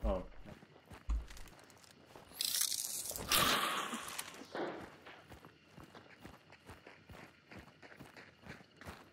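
Footsteps crunching through a wooded area in a zombie survival video game, a steady run of soft steps throughout, with a louder rustling burst partway through and voices talking over it.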